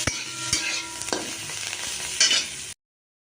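Cooked potatoes go into a pan of mixed vegetable curry, a spoon stirring against the pan over a steady close sizzle of frying, with a few sharper scrapes and no voices.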